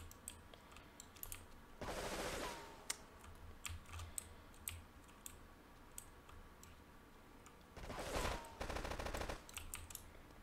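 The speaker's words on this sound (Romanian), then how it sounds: "Mă pușcă idioții aia de sus" Enemy gunfire in GTA 3 Definitive Edition: two loud, dense bursts of rapid shots, each lasting roughly a second, with scattered sharp clicks and pops between them and no talking.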